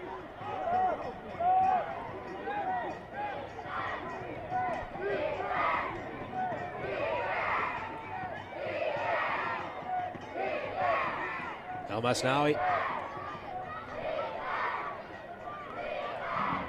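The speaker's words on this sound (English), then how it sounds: "You can hear the home crowd is trying to get them all riled up" A home crowd at a Monterey Bay FC versus Oakland Roots soccer rivalry match roars and chants in a steady, swelling wall of noise, with a commentator's voice over it.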